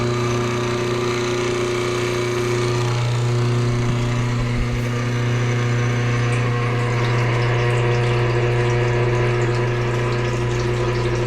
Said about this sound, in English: we're going to turn the pump on. This valve is open, and the rest of the valves are closed. And fill up the wash barrel.